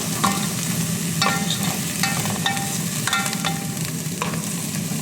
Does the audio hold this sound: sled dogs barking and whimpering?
no